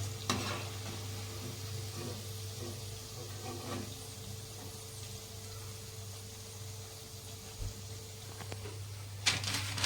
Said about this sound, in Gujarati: આ રીતે બંને બાજુ લાલ થાય ત્યાં સુધી આપણે ચડવા દેવાની ટીકીને.